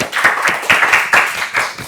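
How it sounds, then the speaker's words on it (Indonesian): A small podcast audience claps for a doctor guest at the close of a health talk on diabetes myths, a few pairs of hands giving steady, near, moderately loud claps with no talk over them. "Mungkin kita boleh tepuk tangan ya buat Dokter Farid ya."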